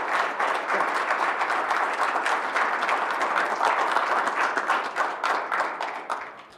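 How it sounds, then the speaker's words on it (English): An audience at a board of education business meeting gives a sustained round of applause for Mr. Brown, many hands clapping in a steady, full wash that tapers off at the end. "So let's give Mr. Brown a round of applause."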